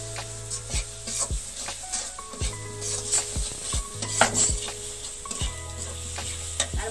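A spoon scrapes rhythmically around a frying pan as turmeric, salt, cumin, coriander, cinnamon and cardamom powders are stirred, repeated clinks and scrapes over a steady soft sizzle, close up with no speech.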